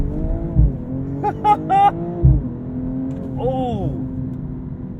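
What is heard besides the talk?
BMW M240i inline-six exhaust pops on upshifts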